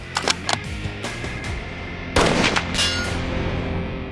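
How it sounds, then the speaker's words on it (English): Rifle shots ring out at a 200-yard range, several sharp cracks in the opening seconds and then a heavier blast with a rolling echo, loud and close with no talk. "200 yards, time of flight. Fire at will."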